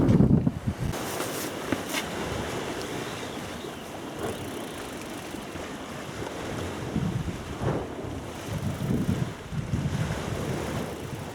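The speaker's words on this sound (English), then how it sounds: "There's a bit of a wind blowing, the water's a bit choppy" Steady wind buffets the microphone beside choppy sea water washing against Anstruther pier at low tide, a broad continuous roar of surf and gusts with no voices.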